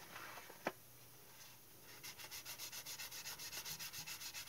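A Heller Canadair plastic model sanded with 1200 grit sandpaper, a quiet brief knock and then a steady back-and-forth rasp of quick even strokes, close and soft.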